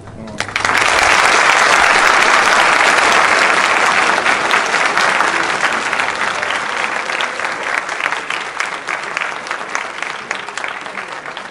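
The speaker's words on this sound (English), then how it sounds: "I'm quite nervous when people applaud me" Loud, sustained applause from a lecture audience at the close of a talk, bursting in at once and continuing as a dense wash that eases slightly while individual claps stand out later on.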